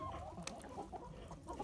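Backyard chickens clucking softly in a series of short, irregular calls, close by but quiet, with no talk.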